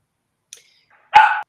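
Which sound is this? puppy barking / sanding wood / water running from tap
puppy barking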